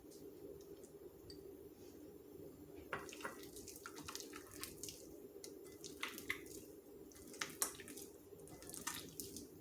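Carnivore ravioli dough with gelatin being mixed by hand, faint wet squishing and sticky slaps in irregular bursts over a low steady background hum, no talking.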